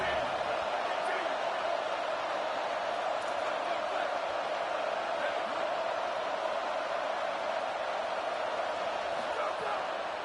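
Loud, steady roar of a stadium crowd bringing noise on third down in a college football video game, Florida State at Georgia, a dense wash with no breaks throughout.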